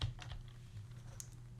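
Typing on a computer keyboard, with a few quiet, scattered key clicks at an irregular pace and no talking.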